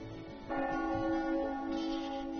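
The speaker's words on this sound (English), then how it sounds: "That bell ringing must mean it's 5 o'clock" A church bell rings in the Trails of Cold Steel video game, one struck tone blooming suddenly and sustaining with a bright ringing hum over faint background music, no voices.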